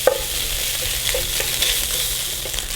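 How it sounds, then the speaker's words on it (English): Onions sweating together with cooked ground beef in a wide pan make a steady, low sizzle, with a few soft stirring scrapes near the start and again later on. "I'm just gonna sweat these onions out for a couple more minutes"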